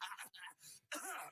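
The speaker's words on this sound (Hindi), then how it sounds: "ये पहले हंसता है, फिर थोड़ा सा खांसने के बाद सॉरी बोलता है" A Free Fire video game emote character gives a few soft, brief coughs and throat-clearing sounds in quick bursts, quiet and close.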